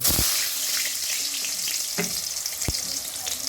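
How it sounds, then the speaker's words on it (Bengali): Eggplant and pumpkin slices fry in a pan with a loud, continuous close sizzle, broken by a few sharp taps of a utensil stirring against the pan, with no voices. "এখন বন্ধুরা বেগুন ভাজা করব আর কুমড়ো ভাজা করবো"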